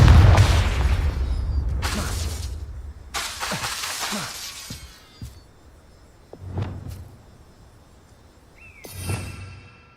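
A Confringo spell in a Harry Potter video game sets off a deep blast followed by several loud bursts of shattering glass and debris, then quieter scattered crashes and a final crash near the end, with no speech.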